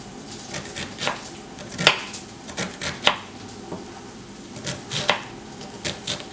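A knife finely dicing onion into small cubes on a board for suadero tacos, with irregular sharp chops spread across the clip, some louder thumps standing out, close and clear with no talking.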